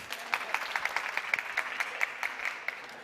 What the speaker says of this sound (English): Can you clap your hand when you hear me?